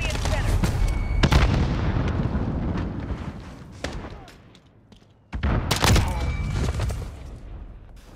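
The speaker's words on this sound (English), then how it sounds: "Grenade out!" Grenade blasts and gunfire in Call of Duty: Modern Warfare, loud booming bursts with a sharp heavy hit near the start and another burst after a short quieter gap, rumbling tails, close and forceful.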